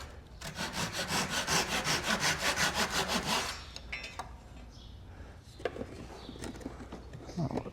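Around fifteen quick, even handsaw strokes cut through a beveled wooden strip for a strip-planked kayak, close and loud, then a few knocks and handling clatter as the piece is set aside.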